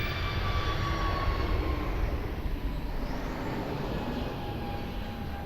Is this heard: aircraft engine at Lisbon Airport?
yes